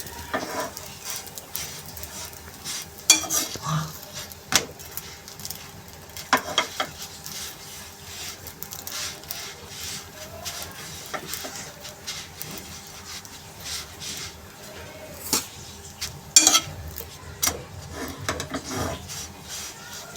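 Kulcha flatbread roasting on a hot pan, a soft continuous sizzle with intermittent scraping and rubbing as it is turned and pressed, steady and close, no talk.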